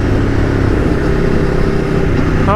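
Aprilia Tuono V4 1100 motorcycle engine running loud and close, a steady continuous roar while riding on the road, with a brief rising whine at the very end and no talking.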